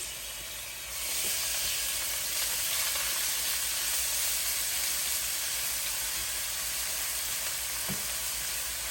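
Garlic and onion sauté in hot cooking oil with a loud, steady sizzle that swells after the first second and holds, with a couple of faint utensil taps near the end.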